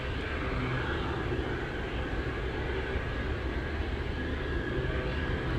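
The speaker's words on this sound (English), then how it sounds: "F-22 Raptors, 2 of them." Two F-22 Raptor fighter jets at Anchorage Airport on a windy day produce a steady, distant, low jet rumble with a broad roar and no distinct peaks, and nobody talks.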